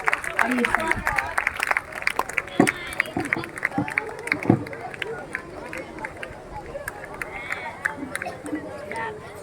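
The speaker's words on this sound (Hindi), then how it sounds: "श्री एमएलए साहब का जोरदार तालियों से स्वागत" Crowd clapping at a school ceremony welcoming a local MLA, with a loose, uneven patter of many hands and a background of crowd murmur and chatter. The applause is moderately distant and carries on throughout.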